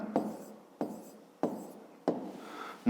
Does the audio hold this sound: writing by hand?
yes